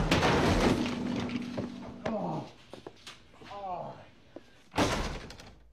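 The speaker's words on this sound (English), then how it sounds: "Open the fucking door!" A door is banged and slammed hard in a tense indoor scene, with a loud thud near the start and another sharp slam toward the end, while someone shouts and talks over the knocking.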